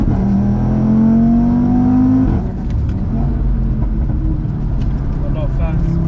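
An Audi RS3 revs hard through a gear on the Nürburgring, its engine note climbing steadily before a shift, then droning on loud and close from inside the cabin as occupants talk over it.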